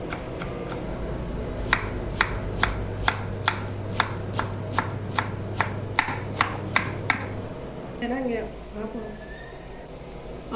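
A knife cuts a peeled potato into thin strips on a board with about a dozen evenly spaced, crisp chops, close by, followed by a person speaking.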